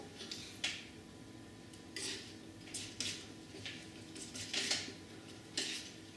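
White paint being mixed with ultramarine blue on a palette for a snowy mountain painting, heard as soft repeated scraping and tapping strokes of the knife or brush, close and quiet.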